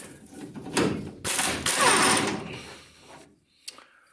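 Final bolt being removed from the transaxle of a 1966 Double Cab, heard as several close, harsh mechanical bursts of whirring and rattling separated by short pauses, with a sharp click near the end.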